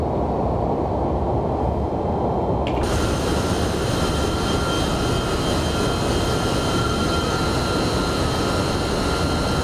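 MD-11F jet engines spooling to takeoff power in the X-Plane 11 flight simulator, a loud, steady, continuous roar with a whining tone that rises and holds throughout.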